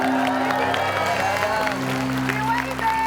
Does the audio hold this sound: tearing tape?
no